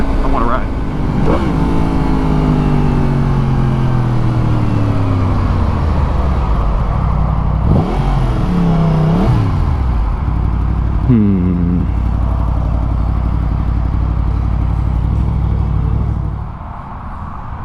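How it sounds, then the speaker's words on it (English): A Ferrari passes near riders on a 2023 Kawasaki ZX-4RR, its engine note sweeping up and down in pitch around the middle, heard over steady loud motorcycle engine and wind noise, with people talking throughout. "There's that Ferrari."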